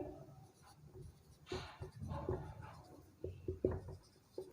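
Pen writing an answer by hand on paper in a maths lesson, faint scratchy strokes in short irregular bursts, heard close and quiet.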